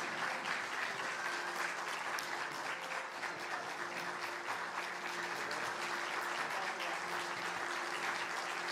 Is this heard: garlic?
no